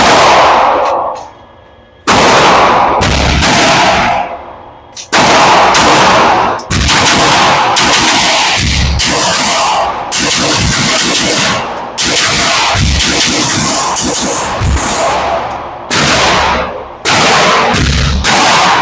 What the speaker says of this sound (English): Let's double tap on through this last magazine before we reload.